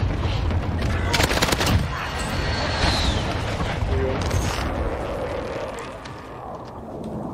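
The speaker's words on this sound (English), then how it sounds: "Airstrike on you guys." Call of Duty Warzone firefight: rapid bursts of gunfire and booming airstrike explosions crackle loudly and continuously, with sharp volleys early on, while players talk over the chaos.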